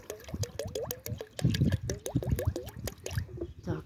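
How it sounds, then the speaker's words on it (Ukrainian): Milk poured from a bottle into a 10-litre bucket of water, with gurgling, glugging splashes in irregular bursts, close and moderately loud, no talking. "Відро води 10-літрове. Виливаю півбутилки молока."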